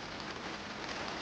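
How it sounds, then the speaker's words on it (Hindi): Rain falls steadily outdoors where laundry is hung to dry, a soft continuous patter and hiss heard alone and fairly faint. "बारिश आ गई है।"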